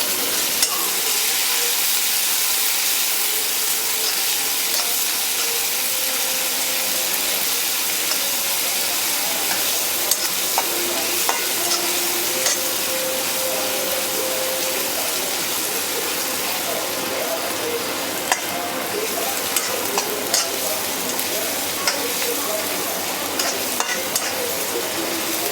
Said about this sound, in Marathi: जिरी, कढीपत्ता, कांदा जर आपल्याला फ्राय करून घ्यायचा आहे।